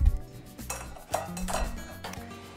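Tilapia ceviche is tossed and mixed in a bowl, with utensils scraping and clinking against the dish in uneven strokes and a few sharper knocks, close up and with no talking.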